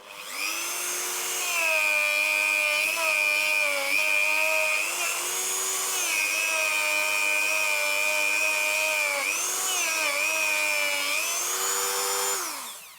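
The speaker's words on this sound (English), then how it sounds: "And just give them a bit of a whiz up with the Dremel." A Dremel rotary tool buffs bass guitar frets with Autosol metal polish, giving a steady close high-pitched whine whose pitch dips and rises a few times as pressure changes, running continuously for about thirteen seconds.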